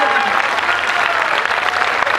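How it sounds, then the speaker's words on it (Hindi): Audience applause at a Hindi poetry recital, a dense, steady wash of many hands clapping at once, loud and close, continuing evenly through the whole short stretch without pause. "स्वयं प्रतापी, एक बार तालियां चैतन्यता से बजा दो,"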